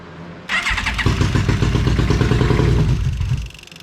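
A 2002 Yamaha Midnight Venture motorcycle, just fitted with a new fuel pump and filter, cranks with a rattling starter and catches into a loud, lumpy idle that runs for a few seconds, then cuts out abruptly.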